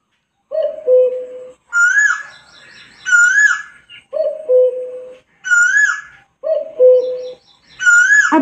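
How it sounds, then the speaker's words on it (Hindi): Asian koel call played back by an Alexa smart speaker: clean, loud, repeated whistled phrases that rise in pitch, sounding in regular bursts separated by short silences. "कोयल।"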